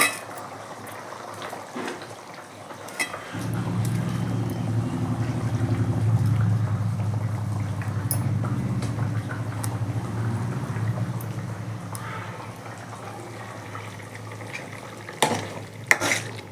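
Washed dried fish goes into a pot of simmering fish curry (karuvadu kulambu) with a splash, then a steady low bubbling and stirring sound, with scattered clinks of utensils and no talking.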